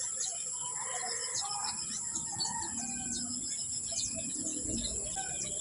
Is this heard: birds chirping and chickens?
yes